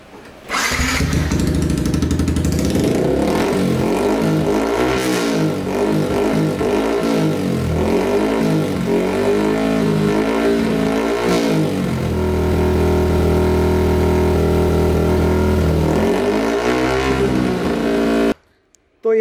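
A Yamaha R15 v3 motorcycle fitted with an Akrapovic carbon-fibre exhaust, idling then revved repeatedly in rhythmic loud bursts, close and continuous for about eighteen seconds before cutting off.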